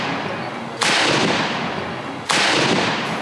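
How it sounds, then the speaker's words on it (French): Cannons fire a 101-gun salute for the birth of a future crown princess, with two sharp, loud blasts about a second and a half apart, each trailing into a long rumbling decay outdoors. "prêts à tirer les 101 coups de canon dus à son rang de future princesse héritière"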